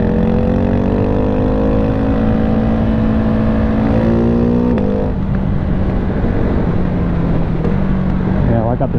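Ducati Hypermotard 698 Mono single-cylinder supermoto ridden hard on an Arizona desert road, its engine droning loud and close with rising and falling revs through gear changes, mixed with wind rush.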